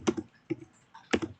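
A few computer keyboard keystrokes in short clustered bursts, close and fairly distinct, with gaps between groups of taps and no talk.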